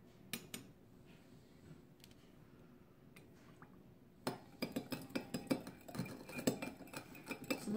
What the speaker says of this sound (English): and then stir it again